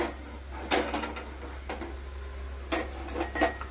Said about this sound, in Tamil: இதை எடுத்து இன்னொரு பவுலுக்கு மாற்றிக்கலாம்.